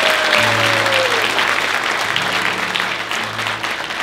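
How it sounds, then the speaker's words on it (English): A live concert audience claps in a dense, even wash of applause that fades slightly toward the end, with a faint sustained instrumental tone and no talking. "let's give him a round of applause for what they did"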